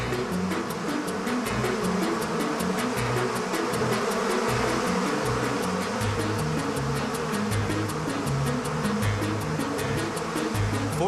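A huge swarm of some 40,000 killer bees clustered on a man hums in a dense, continuous buzz that stays loud and unchanging throughout.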